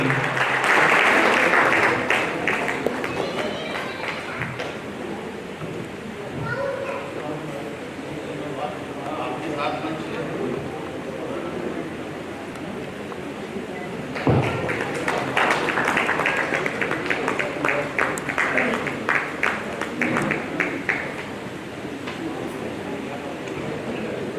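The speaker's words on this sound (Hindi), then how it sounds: "जोरदार तालियां बजनी" Audience applause at an honour ceremony in Kanpur for descendants of freedom fighters, a long stretch of clapping that eases, then swells again midway, with someone talking over parts of it.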